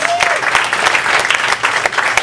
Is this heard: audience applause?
yes